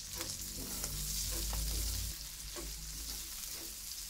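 Onion and garlic sauté in hot oil in a pan for an okra dish, giving a steady close sizzle with light stirring scrapes and a low hum that drops away partway through.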